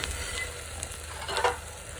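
Homemade masala spice mix fries in a little oil in a pan with a close, steady sizzle and crackle, plus a few brief stirring scrapes and no voices.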